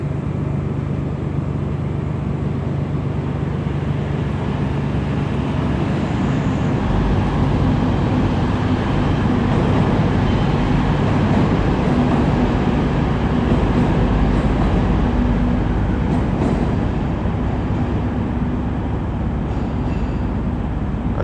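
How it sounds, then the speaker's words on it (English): A TransPennine Express train arrives at Darlington station on the East Coast Main Line, a steady rumbling roll of wheels and engine heard at moderate distance, continuous throughout with slight swells, no talk. "It's the 10:12 TransPennine Express service to Newcastle from Manchester Airport."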